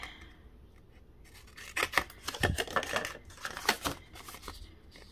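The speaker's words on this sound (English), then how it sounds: "we could go ahead and trim these at an angle just from your score mark to the outside" Paper file folder edges being trimmed at an angle for a journal, a quiet series of crisp, close snips and rustling paper cuts coming in small irregular bursts.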